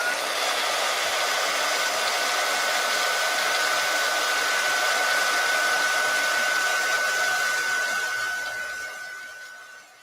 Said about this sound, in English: Let's heat set this real quick.